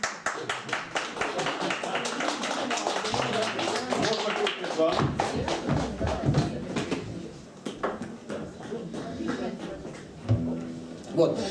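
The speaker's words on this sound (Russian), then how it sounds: "Аплодисменты ему" Audience claps and taps for an Olympic bear mascot from 1980 on stage at a bear-themed evening show, loud uneven clapping running throughout with voices talking over it.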